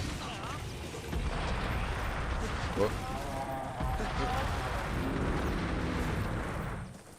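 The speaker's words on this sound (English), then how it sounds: "So there's this explosion first, which is a very powerful axe attack, and it does 3 little pops afterwards" Switch Axe explosion attack in Monster Hunter Generations Ultimate, a dense run of blasts and crackling pops layered with game sound effects. Someone talks briefly over it.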